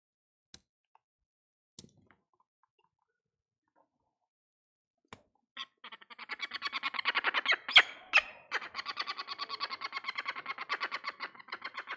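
A peregrine falcon chatters in a long burst of rapid, harsh repeated squawks, close and loud, following a few faint isolated clicks and taps near the start.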